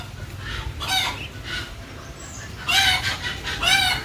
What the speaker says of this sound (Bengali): হাঁসের বাচ্চাগুলো আসছে খাওয়ার জন্য